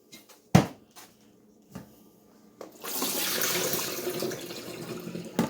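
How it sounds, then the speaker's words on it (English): Water pours and splashes steadily as soaked fresh garlic cloves are strained, preceded by a few knocks and clunks of a container being handled nearby. "And we're going to strain these off."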